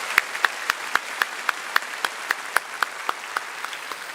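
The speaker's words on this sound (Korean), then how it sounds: "우리 감사 영광의 박수 올려드리겠습니다." Church congregation applauding at a New Year's Eve worship service after a choir's final hymn, sparse sharp claps in a steady rhythm from a modest crowd, fairly close and alone without talk.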